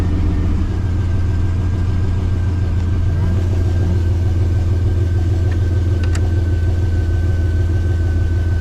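A 1986 Chevrolet C20 Suburban with a swapped-in LS V8 idles steadily and close by, a deep continuous rumble running without a break throughout.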